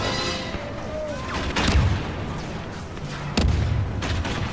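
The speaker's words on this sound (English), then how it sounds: "There's so many explosions" Rapid booming explosions and bursts of blaster fire in a chaotic Star Wars Battlefront II battle, with two heavier grenade blasts standing out from a constant rumbling din.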